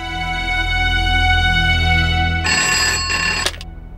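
Landline telephone ringing loudly with a steady electronic ring tone that cuts off abruptly as the call connects, followed by a brief click.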